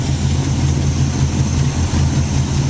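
A Chevy Nova engine with a charging problem runs steadily at idle, a loud, close, even low rumble with a constant hum and no talking.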